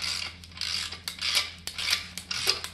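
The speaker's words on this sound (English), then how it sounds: "I love this Eastwood MacPherson strut compressor." An Eastwood MacPherson strut coil spring compressor is worked by hand, producing repeated metallic ratcheting clicks and scraping strokes in an uneven rhythm, close and fairly quiet, with no talking.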